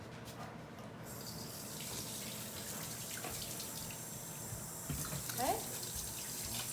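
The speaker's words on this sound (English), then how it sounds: "I'm gonna wash my hands real quick." Tap water runs steadily into a kitchen sink while hands are washed, a continuous close rushing with splashes toward the end, and a voice briefly speaks over it.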